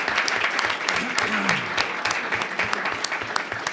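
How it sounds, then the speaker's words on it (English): Applause for a head coach at a Board of Education meeting, steady dense clapping from a room of people that fills the whole moment without a break, with faint voices mixed in. "Let's give him a big round of applause"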